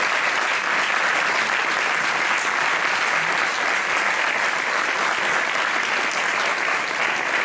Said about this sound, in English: a round of applause for you for bringing this out in the students